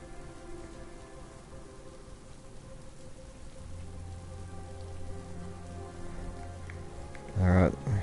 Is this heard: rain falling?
yes